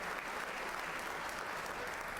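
Steady applause from a church assembly crowd, dense and continuous throughout, with no break in the clapping.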